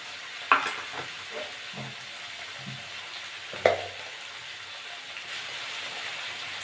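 Ginger-garlic paste sizzles faintly in a pan with potato and eggplant, broken by two sharp clanks of a spatula and a few soft scraping stirs; quiet overall, no voices.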